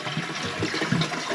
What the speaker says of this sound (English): So let's give it a flush.